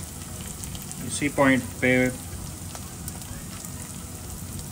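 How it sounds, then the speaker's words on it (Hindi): Tomato and chili paste frying in a pan for Lahori chickpea curry, a soft steady sizzle running throughout, faint and close, with a short spoken phrase briefly over it. "टमाटो और चिली का पेस्ट और इसको भून लेंगे"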